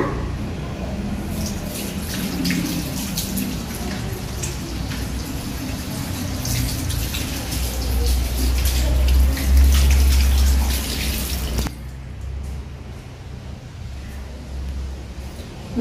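Water runs steadily from a tap for handwashing, a broad continuous splashing that carries on for about twelve seconds, then cuts off, leaving quieter room noise.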